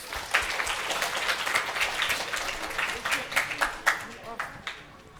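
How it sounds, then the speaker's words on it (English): An audience at a gurukula camp graduation claps in sustained applause of many hands, dense and steady, with some louder individual claps near the end, while a voice talks over it. "Give her a big round of applause"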